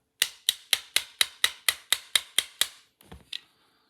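A small hammer taps a Tokyo Marui Sig Sauer P226 E2 airsoft pistol frame part into place with about ten sharp, evenly spaced metallic knocks, close and crisp, then a few softer clatters as it is set down.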